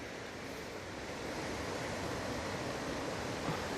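A forest stream flows through the Uludağ woods beside a trekking path, a steady broadband rushing and hissing of water, continuous and soft, swelling slightly partway through.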